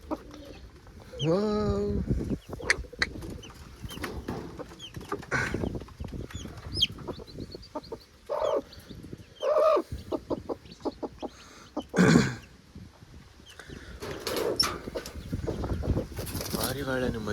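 Chickens and chicks on a farm clucking and calling in scattered bursts, with occasional wing flapping, close by, while a person speaks and exclaims between the bird sounds.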